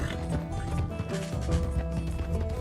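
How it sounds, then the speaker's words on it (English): A horse gallops during a chase in Red Dead Redemption 2, rapid hoofbeats drumming close and continuous amid mechanical rattles and thwacks, with a faint whinny. "Looks like we've got a horse chase."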